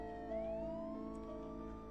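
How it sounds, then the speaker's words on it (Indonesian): An ambulance siren wails steadily with a rising sweep, sounding at moderate distance over a low rumbling background, with no talk. "Sirine itu terasa seperti isyarat."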